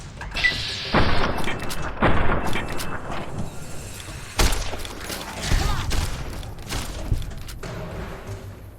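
Gunshots in Fallout: New Vegas, a string of loud booming shots with thuds and debris between them, spaced irregularly over steady game ambience.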